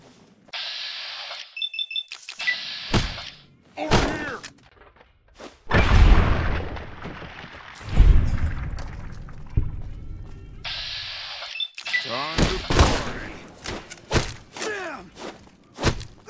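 A sawed-off shotgun in a video game fires several heavy booms, mixed with thuds, footsteps, beeping tones and other game effects in a busy, uneven sequence.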